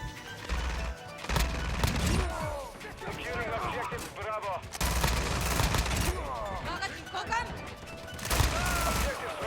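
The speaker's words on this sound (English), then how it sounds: "This gun fires super fast, but it does like no damage." A rapid-fire gun in a video game rattles off dense bursts of shots, mixed with other game sounds and effects, while a person talks over the action.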